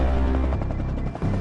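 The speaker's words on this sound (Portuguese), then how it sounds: "A solução criada inclui um helicóptero militar Nighthawk" A Nighthawk military helicopter flies past with a steady, dense rotor and engine drone that stays loud and close throughout the short stretch.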